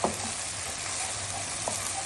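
Onion and ginger-garlic paste roast in a pan for mutton curry, giving a close, steady sizzling hiss with a couple of faint stirring scrapes.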